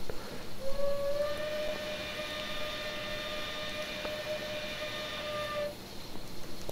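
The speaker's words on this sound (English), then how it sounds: "These locomotives would have carried a Banshee style whistle, if I remember right." A steam whistle on a PRR I1 2-10-0 Decapod locomotive in Train Simulator Classic sounds one long sustained chord with a short rising wind-up, holding steady for about five seconds before releasing.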